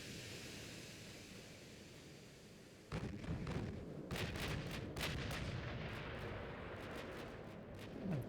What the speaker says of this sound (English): Give me a 16-inch gun fire